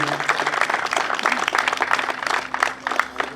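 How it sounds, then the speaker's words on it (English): Applause from a crowd at a South Side Italian American rally, a dense, steady patter of clapping that fills the whole stretch and holds at fairly even loudness with no voices on top. "A big round of applause for those people."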